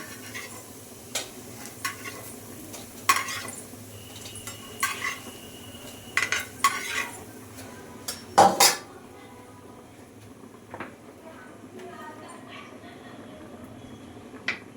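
Fried shrimp and lentil fritters with potato and papaya being lifted from a pan of oil, scattered metal utensil clinks and scrapes against the pan over a faint sizzle, with a few louder clatters, no talking.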